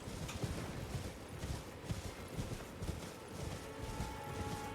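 Hooves clip-clop steadily at a trot in Elden Ring as a horse is ridden across open ground, the rhythmic beats close and continuous over faint ambient game sound.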